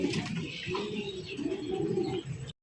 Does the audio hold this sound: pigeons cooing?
yes